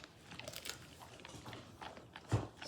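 Labrador dogs crunching and chewing bones at Gold Beach, faint close-up bites and crackly crunches scattered irregularly, with one sharper, louder crunch near the end and no talking.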